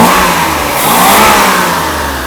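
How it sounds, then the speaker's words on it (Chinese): A Mercedes-Benz W461 300GE engine, freshly repaired after a fuel distributor fault, revs hard under quick throttle blips, a loud close roar that swells and eases over a couple of seconds. "你看大哥这么快速的拉油门"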